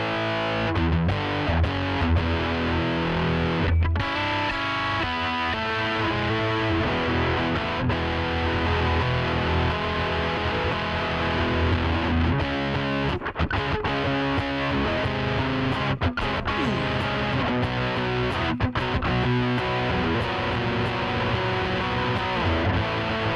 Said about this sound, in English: you got some good old square wave distortion.